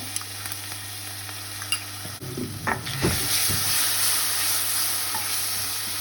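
Curry leaves and ginger hitting hot oil for Goan beef pickle, a quiet hum that bursts into loud, steady sizzling and crackling partway through and keeps frying to the end.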